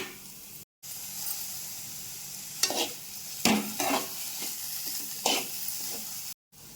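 Beetroot and mint fry and get stirred in a pan, a steady close sizzle broken by several scraping stir strokes, with two short silent gaps near the start and end.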